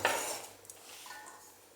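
A knife slicing cucumber for a cucumber and mackerel salad: a crisp cut at the start on a board, then a couple of quieter taps and light clatter fading out, close and without talk.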